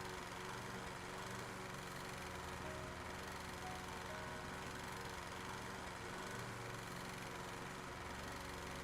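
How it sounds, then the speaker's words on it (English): A lawn mower in the game House Flipper drones in a quiet, steady hum that holds an even pitch from start to finish. "that's why sometimes your lawnmower goes crooked"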